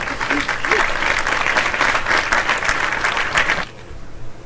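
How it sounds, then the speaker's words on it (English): A crowd bursts into steady applause for a friend, dense and loud for about three and a half seconds before cutting to quieter room tone. "Let's give my friend Robert, excuse me, some applause."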